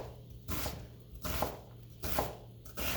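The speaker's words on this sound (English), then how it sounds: "There's our chopped onion." An onion being chopped with a knife on a cutting board, four evenly spaced rounds of quick rhythmic blade taps, close and fairly quiet with no talking.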